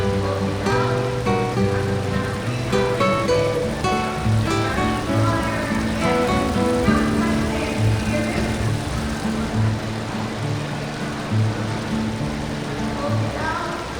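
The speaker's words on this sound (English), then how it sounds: "The soothing sounds of the waterfall, just the babbling brook that you hear." A garden pond waterfall and babbling brook at a flower show give a continuous, even rush of splashing water, steady and fairly close throughout.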